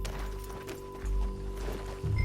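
Horse hooves gallop in Red Dead Redemption 2, a steady run of clip-clop beats under low in-game rumble and ambience, fairly close and continuous throughout.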